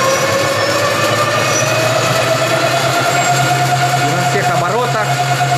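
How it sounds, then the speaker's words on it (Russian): A 1000W 60V electric hub motor spinning at full revs, giving a steady, loud whine with sustained tonal hum and a slight rising wobble near the end, with no talk over it. "Вот наше мотор-колесо крутится."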